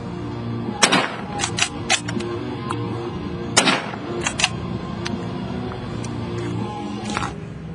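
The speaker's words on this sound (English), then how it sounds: "Enfield number 4, 1945, Mark 1. Two rounds downrange." Two sharp, loud shots from a 1945 Enfield No. 4 Mk 1 rifle fired downrange at a range, spaced about three seconds apart, each followed by echoing clatter and smaller clicks.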